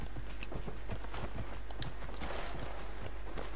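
Steady clip-clop of horse hooves from the video game Dragon Age Inquisition, a continuous rhythmic trot over a constant background hum.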